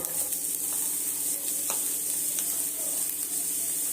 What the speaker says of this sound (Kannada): ಎಣ್ಣೆ ಹಾಕ್ಕೊಳ್ತಾ ಇದ್ದೀನಿ ಈರುಳ್ಳಿ ಹಾಕ್ತಾ ಇದ್ದೀನಿ